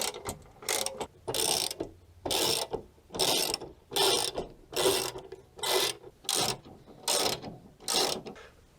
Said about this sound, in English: I'm gonna go ahead and tighten the spare wheel holder now.